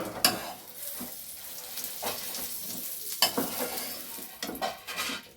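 An omelette mixture of egg with minced meat, onion, ginger, tomato and coriander sizzles in a pan, with scraping and clinking of a utensil against the pan at uneven intervals, close and moderately loud.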